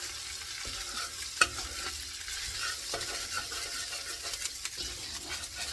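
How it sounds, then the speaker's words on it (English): A spoon stirs beef and barley soup in a pot and scrapes across the bottom, giving soft continuous scraping and light sizzling with one sharp clink near the start, all close and moderately quiet. "Give it a good stir. And as you stir, you always want to make sure you scrape the bottom of the pot."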